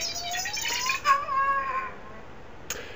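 R2-D2 short circuit sound effect from a CF-3 droid sound system, a warbling electronic whistle that rises and wavers, fades out, and ends with a faint click.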